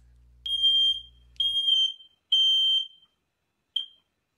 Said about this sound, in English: His quest to turn off the fire alarm, and he set off another one.